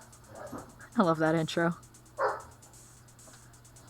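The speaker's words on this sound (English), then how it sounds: "Bork, says my dogs." Pet dogs indoors during an art stream let out a couple of short barks and yips, mid-volume, separated by pauses, with a voice talking briefly before them.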